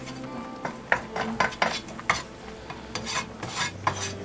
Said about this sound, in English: And continuing to stir this roux.